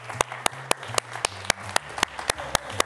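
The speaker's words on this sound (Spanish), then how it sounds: "un aplauso para mi Rivas" A small studio audience claps in a sharp, evenly spaced beat, about a dozen crisp claps over a steady tone and background murmur.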